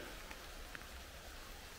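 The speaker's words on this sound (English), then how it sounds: "it's absolutely thrown it down with rain" Heavy rain falling outdoors, a steady broadband hiss with no pauses, fairly soft, with a couple of brief louder drop taps.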